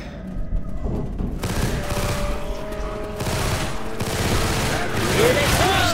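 Gunfire in Left 4 Dead 2 split-screen co-op play, dense rapid bursts of shots and booms forming a loud continuous fusillade throughout, with a voice heard faintly among the shooting.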